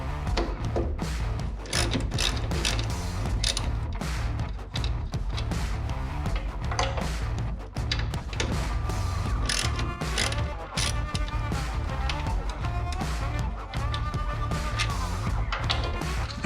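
A hand ratchet works the 1/2-inch bolts on a 1966 Ford Mustang front shock absorber, giving steady, busy metallic clicking and ratcheting that runs without a break the whole way through.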